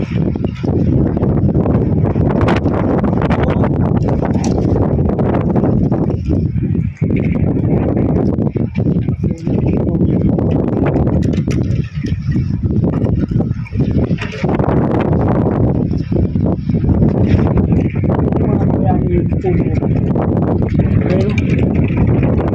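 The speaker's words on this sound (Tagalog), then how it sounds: "Grabe hangin na yun." Loud, constant roaring wind from a sandstorm in Libya buffets the microphone throughout, with a person speaking over the gusts.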